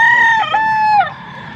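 A Milsim Black bull stag rooster crows loudly and close, one full cock-a-doodle-doo with a strained, wavering middle that drops off sharply at the end.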